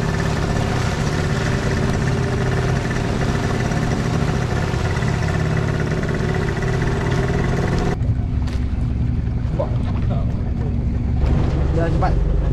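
A fishing boat engine drones steadily with wind noise while maneuvering, then drops off sharply, leaving quieter water and wind with faint voices.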